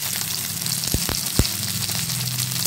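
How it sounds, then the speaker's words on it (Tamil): Onions sauté in hot oil with a steady, close crackling sizzle, punctuated by a couple of brief sharp knocks partway through, and no voices. "போட்டு இந்த வெங்காயத்தை நல்லா வதக்கிக்கலாம்."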